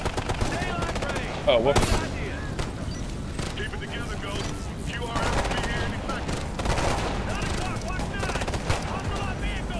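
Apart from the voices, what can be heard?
DMR rifle gunshots in video game Ghost Recon: Future Soldier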